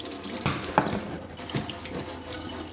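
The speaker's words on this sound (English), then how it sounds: "First, I'll just let some water come out of the tap." Water runs steadily from a kitchen tap into a sink during home brewing prep, a close continuous splash with a few clunks of handling.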